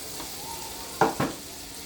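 Butter and oil heat in a pan for noodles, making a faint steady sizzle that is broken by two quick, louder clatters of a utensil or pan close by.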